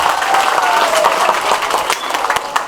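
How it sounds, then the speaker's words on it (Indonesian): Crowd at a school Maulid Nabi celebration for SMA Negeri 1 Patok clapping steadily, dense and loud with a few sharper individual claps standing out near the end. "tepuk tangan untuk SMA penggerak SMA Negeri 1 Patok Indonesia"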